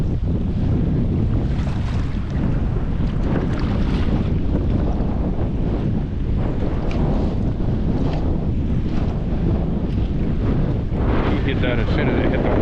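Strong wind buffets a microphone on a fishing boat on a windy day, a loud continuous roar with gusts and water noise that never lets up, and faint voices beneath it.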